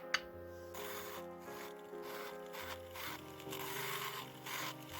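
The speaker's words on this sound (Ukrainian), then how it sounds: "Шліфування відбувається як зазвичай, спочатку бурмашинкою, а потім наждачкою." A carved wooden bird figure being sanded with a rotary tool and sandpaper: a steady close whir of the rotary tool with rhythmic rubbing and grinding against the wood, no talk.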